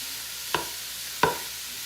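Two sharp scrapes of a utensil stirring hamburger, peppers and onions for cowboy stew, heard over a soft steady sizzle in the pan.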